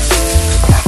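Garlic cloves drop into a pan of frying onions and bay leaves, giving a loud close sizzle with a couple of quick stirring knocks.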